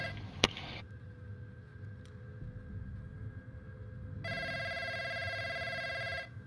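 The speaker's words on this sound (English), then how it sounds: "This phone's annoying. There's a phone right next to me." A telephone rings in a shooter video game, a bright electronic trill starting a few seconds in and sustaining loudly and close, after a sharp early click and quiet ambient hum.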